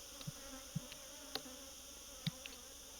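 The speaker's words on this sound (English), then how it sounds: "The bees are brushed off so that they may be handled more easily." Honey bees hum around queen cells during beekeeping in Malta, a faint steady drone broken by a few soft taps and brief knocks.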